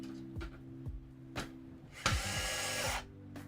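Electric screwdriver working screws into a GameCube console, several short whirring bursts followed by a longer, steady motor whine of about a second, close and clear with a faint background hum.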